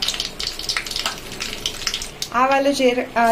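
Mustard seeds and cumin sizzle and crackle in hot oil in a kadai, a steady fizzing hiss that carries on under a voice speaking toward the end.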